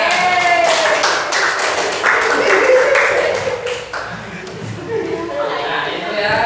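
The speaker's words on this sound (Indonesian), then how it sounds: "Kasih tepuk tangan." A classroom of children claps hands during a religious lesson, loose and uneven bursts of close clapping with some talk and voices mixed in.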